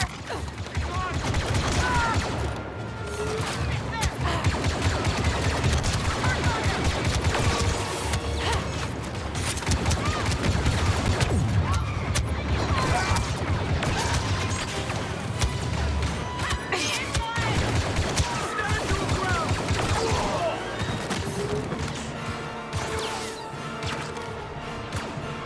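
Sustained blaster fire in a Star Wars Battlefront II campaign battle, rapid shots and mechanical clatter packed tightly throughout, with crashes and impacts in a loud, busy mix.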